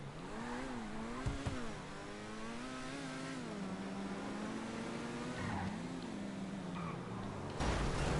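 An Overflod Tyrant supercar in GTA Online revs its engine in a steady rising and falling drone, moderately loud and continuous with a brief louder burst near the end.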